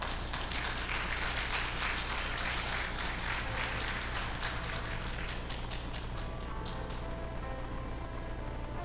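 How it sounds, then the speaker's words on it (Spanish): Congregation clapping during a Spanish-language church service, a steady, dense wash of many hands that carries on throughout over a low hum, moderately distant and fairly quiet, with no voices standing out. "Denle un aplauso al Señor."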